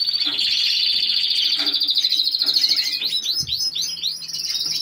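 Small caged birds, including yellow and pied cock birds and a green hen, chirp continuously at close range, with a dense stream of high tweets that breaks into quicker, choppier calls toward the end.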